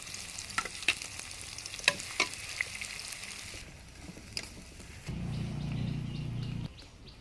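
Onion frying in oil for a taro (kochu) curry in a village kitchen: steady sizzle with scattered clicks of a utensil, and a louder hissing surge near the end as more goes into the pan.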